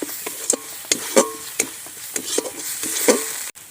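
Ground spices (turmeric, chili, coriander, cumin powders) sautéing in a pan, soft sizzle with a series of quick stirring scrapes and light utensil taps, no voices.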